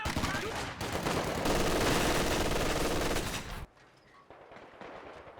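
A machine gun in Company of Heroes 2 fires a long, loud, sustained rattling burst amid battle noise, then cuts off abruptly, leaving quieter ambient combat sounds.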